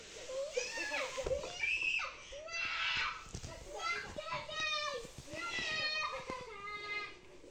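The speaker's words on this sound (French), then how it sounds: "Pour parvenir à ses fins, elle a une arme imparable, elle crie." A voice rises into shrill, loud screams and cries in a domestic scene, repeated bursts mixed with child chatter and excited vocal noise throughout.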